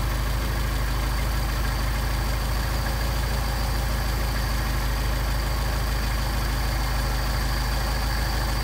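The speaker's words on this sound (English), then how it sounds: "You get a lot of noise through here and also start to falter a little bit on the idle" A Mercedes 190SL engine idles roughly, its Solex carburetor mixture screw backed out too far, giving a steady, close, noisy low rumble that falters slightly without pausing, and no talk is heard.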